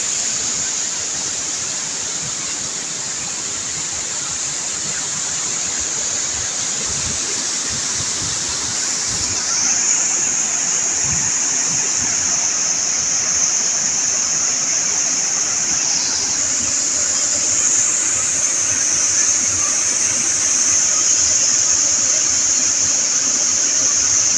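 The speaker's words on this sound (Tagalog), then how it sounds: "Ito yung pinakamalaking ano, buhos ng tubig dito nang galing sa bundok." Little Baguio Falls in Bacuag, Surigao del Norte, Philippines, pours heavily in a constant rushing roar, steady and fairly loud, with a high hiss on top and no speech.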